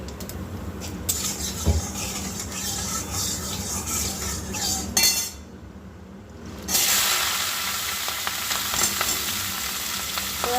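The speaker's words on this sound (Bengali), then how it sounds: "কড়ার মধ্যে তেল দিয়েছি দিয়ে দিলাম শুকনো লঙ্কা কালো জিরে ফোড়নে" Dry red chilies and nigella seeds crackle and sizzle in hot oil in a kadai, a steady loud frying hiss with stirring scrapes that drops away briefly before surging back even louder.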